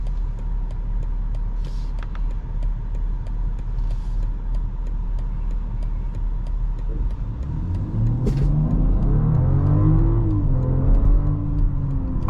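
A 2024 BMW X5 40i pulls away hard from a green light, a steady cabin drone swelling into a rising engine note as it accelerates, heard from inside with no talking.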